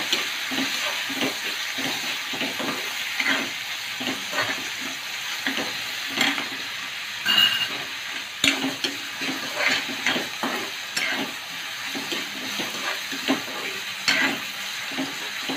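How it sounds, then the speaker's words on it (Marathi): Chopped tomato sautéing in a hot pan for stuffed brinjal curry sizzles steadily while a spoon stirs and scrapes in repeated bursts, close and moderately loud with no talking. "यात आपण हा टोमॅटो टाकूया चिरलेला. आता हे चांगलं परतून घेऊया."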